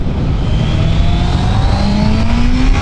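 A 2014 Honda CBR650F motorcycle with a modified exhaust runs steadily under way, its engine note rising slowly in pitch as it accelerates, loud and continuous with wind noise and no talk.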